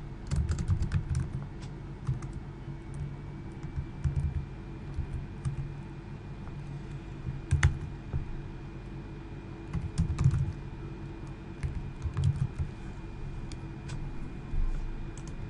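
Someone types code on a computer keyboard, tapping out soft, irregular clusters of keystrokes with brief pauses over a low background hum.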